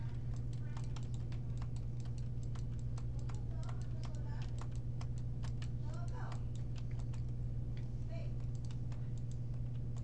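Computer keyboard keys clatter in quick, steady bursts of clicks throughout, close and crisp over a constant low electrical hum.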